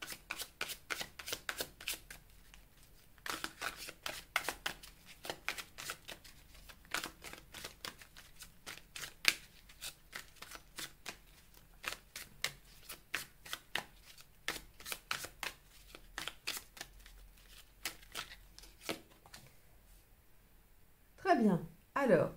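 Tarot cards being shuffled and drawn during a reading, a long run of crisp riffling and flicking bursts with short pauses between them, close up, ending in a few louder card slaps.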